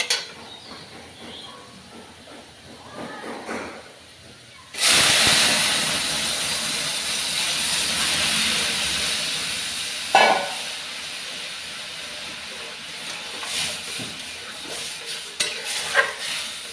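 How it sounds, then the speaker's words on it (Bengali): Masoor lentils poured into fried onions set off a sudden loud surge of hissing and steam after a quieter stretch of stirring, then the sizzle settles into a steady bubbling hiss with occasional stirs. "এবার এর মধ্যে আমি ডাল ঢেলে দেবো।"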